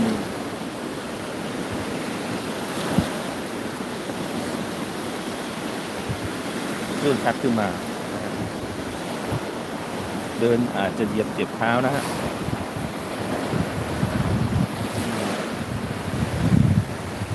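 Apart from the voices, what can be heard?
sea waves on a beach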